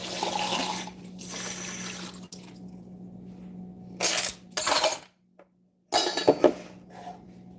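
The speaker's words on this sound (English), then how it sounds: "let me pull one out of the sink." A cup is pulled out of a kitchen sink holding water, with splashing and clinking in short bursts over a steady background hum, broken by brief pauses and near silence.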